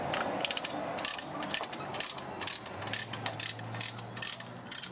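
A special brake tool spreads the single rear caliper piston on a 2017 Lexus GX460 during a brake job, giving a rapid series of close ratcheting clicks in bursts, with a low hum underneath.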